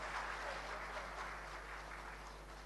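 A hall audience applauds a donor at a felicitation programme, a steady wash of many hands clapping at moderate volume over a low electrical hum, with no one speaking.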